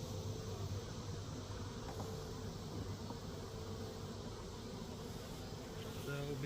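Honey bees shaken from a brood frame thick with young brood and nurse bees give off a dense, steady buzz that runs without break throughout, close and moderately loud.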